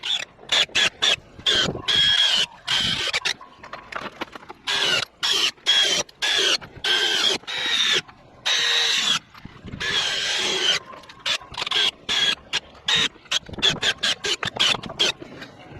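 Power drill drives screws into roof boards in a zigzag pattern while fixing a sagging roof, loud whirring bursts of varying length separated by short silences, repeated many times up close.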